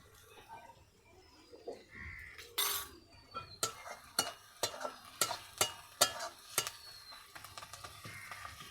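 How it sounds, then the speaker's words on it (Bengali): A spoon clinks and scrapes in a pan, stirring chilli powder and spice masala as it fries. The sharp, irregular taps grow busier toward the end over a soft background sizzle. "ভালো করে মশলাটা কষিয়ে নেব।"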